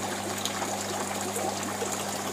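Water in a tilapia recirculating tank system flows steadily from the mechanical filter toward the biofilter, giving a continuous trickling, splashing rush with a low mechanical hum underneath.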